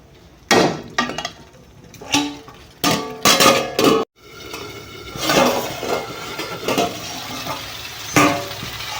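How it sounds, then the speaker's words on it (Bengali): A lid clatters onto a metal cooking pan of fish curry with tomatoes and peas, giving several sharp metallic clanks and clinks in short bursts, then softer rattling and kitchen handling noise, fairly close and loud. "নাড়িয়ে চাড়িয়ে নিলাম এখন ঢেকে দিব"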